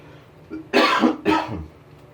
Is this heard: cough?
yes